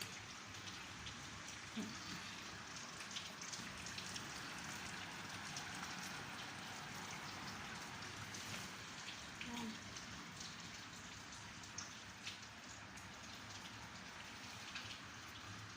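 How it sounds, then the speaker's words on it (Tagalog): Steady rain pours down in a constant hiss, with drops pattering on surfaces; the sound stays even and fairly quiet throughout. "Kunting ulan lang dito, nagbaha na."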